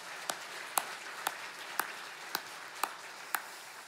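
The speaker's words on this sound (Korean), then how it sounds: "박수로 영광 돌리겠습니다." A church congregation at a Sunday worship service claps together in steady unison, about seven evenly spaced sharp claps over a faint roomy background, moderately distant.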